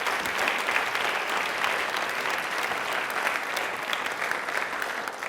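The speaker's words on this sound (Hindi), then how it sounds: "एक बार तालियां प्लीज हमारी सरकार के लिए जोरदार" A studio audience at a televised quiz program in Rajasthan applauds the government, a steady, dense wash of clapping that runs without a break and with no voices on top.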